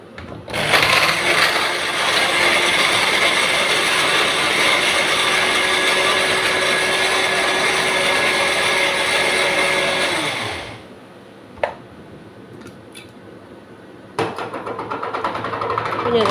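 A countertop mixer grinder whirs loudly and steadily as it grinds jaggery or sugar, a continuous motor drone that stops abruptly, followed by a short clunk and quieter handling noises.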